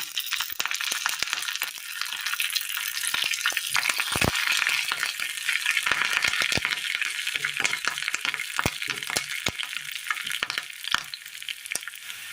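Curry leaves and kanthari chillies frying in hot oil for a Kerala dish: a loud, dense sizzle with crackling pops scattered all through and a few sharper spits.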